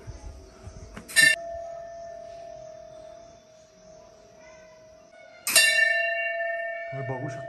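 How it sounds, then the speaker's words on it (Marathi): Automatic bell in a Buddhist temple near Khecheopalri Lake in West Sikkim, two bright metallic strikes a few seconds apart, each ringing on with a long sustained hum and faint voices in the background. "आतमध्ये ऑटोमॅटिक अशी घंटी दिलेली आहे मित्रांनो, ती आपोआप वाजत जाते या बुद्ध मंदिरामध्ये"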